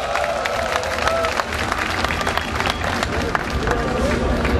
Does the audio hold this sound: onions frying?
no